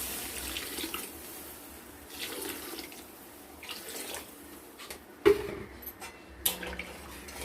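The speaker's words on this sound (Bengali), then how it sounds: "আর একটু জল দিয়ে দেবো, দিয়ে দিলাম আর একটু কিছুটা পরিমাণে জল" Water poured into a pot of thin fish curry with potatoes and ridge gourd, a soft steady liquid wash running for several seconds, with a couple of brief clinks near the end.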